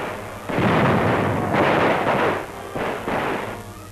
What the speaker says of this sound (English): Pillboxes cleaned out with grenades.